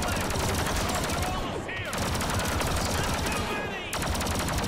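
Blaster fire in the Star Wars Battlefront 2 video game, a dense, continuous barrage of shots with brief lulls, loud and close, with battle noise throughout.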